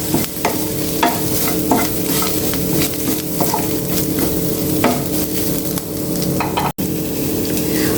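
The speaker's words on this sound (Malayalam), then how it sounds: "1/4 ടീസ്പൂണ് ചെറിയ ജീരകം, കൂടുതലും ആവണ്ട, ചെറിയ ജീരകം. നന്നായിട്ട് ചുവക്കെ വറുത്തെടുക്കാം." Cumin seeds roasting in a hot pan for a spinach-stem sambar, a steady close sizzle with scraping stirs every second or so, alone throughout.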